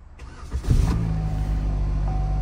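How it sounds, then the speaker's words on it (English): A Buick LaCrosse Hybrid engine cranks briefly and catches, then settles into a steady low idle hum heard up close from inside the car, with a thin tone joining near the end. "All right, so the car started right up."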